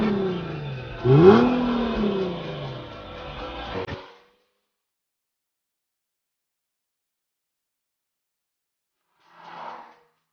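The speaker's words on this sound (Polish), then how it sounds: "charakter wydobywający się przez dwie rury wydechowe" A sports car engine, from an Infiniti G37 or Lexus GS 450h test, revs hard through twin exhaust pipes for about four seconds, pitch climbing then falling, before cutting to silence with one faint short noise later.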